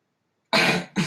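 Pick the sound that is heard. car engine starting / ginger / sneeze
sneeze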